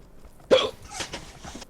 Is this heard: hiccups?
yes